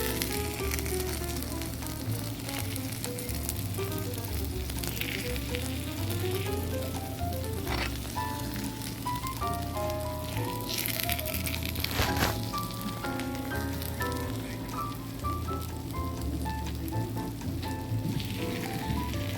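Cheese and curry sizzling on a hot iron plate as they are mixed together, a steady close hiss and crackle with faint clinks of a utensil, with no talk.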